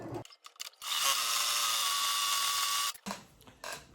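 A sewing machine back stitching on towel fabric, a short whirring burst of about two seconds after a few brief mechanical clicks, close and fairly loud, with no talking.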